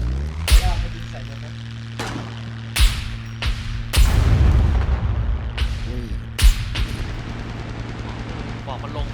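Several sharp, loud gunshots ring out one at a time at irregular intervals in the SCUM survival video game, each with a booming tail, over a steady low hum.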